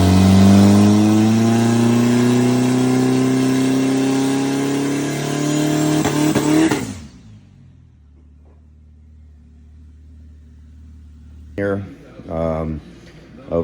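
A car engine revs hard and loud, then cuts away sharply to near silence, with short bursts of low sound returning near the end.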